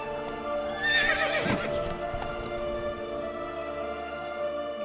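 Roach, a horse in The Witcher 3, gallops with steady clip-clopping hooves and lets out a loud whinny early on, the hoofbeats continuing close and rhythmic afterward.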